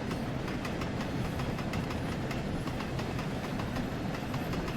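A Stanier 8F steam locomotive hauling a freight train with a brake van in Train Sim World, a steady rolling rumble with rhythmic clicking of wheels over rail joints, close and continuous.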